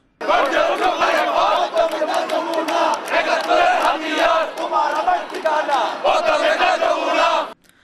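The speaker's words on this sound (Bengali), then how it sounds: "যুদ্ধাপরাধীদের বিচারের দাবিতে বিভিন্ন স্লোগান দেন তারা" Expatriate Bangladeshi protesters demanding the trial of war criminals chant slogans as a loud, close crowd, their voices rising and falling in rhythmic unison for several seconds before cutting off abruptly.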